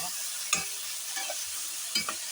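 Vegetables for a chutney sautéing in a pan, a steady soft sizzle with a few brief stirring scrapes over it.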